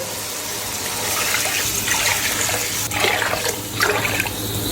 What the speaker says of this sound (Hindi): ये हम इसमें पानी ऐड करने लगे हैं।